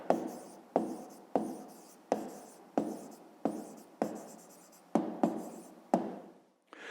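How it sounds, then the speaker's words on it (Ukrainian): Pen strokes writing an answer by hand for a fifth-grade math exercise: about ten distinct scratchy bursts in a steady rhythm, close and clear, with no talking. "Пишемо відповідь."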